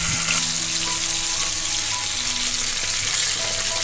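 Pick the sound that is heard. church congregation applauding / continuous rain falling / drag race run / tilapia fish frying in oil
tilapia fish frying in oil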